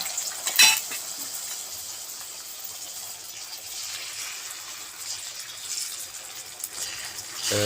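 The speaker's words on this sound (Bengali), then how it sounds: "ডিম দিয়ে দিলাম কড়াইয়ে" Eggs hiss and sizzle steadily in a hot wok, with a sharp clink of a utensil near the start.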